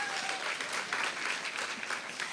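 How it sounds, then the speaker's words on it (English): Steady, full applause from an audience in a room at a Dallas Start Up Week women's empowerment event, continuous clapping without a break. "We need to give them a huge round of applause."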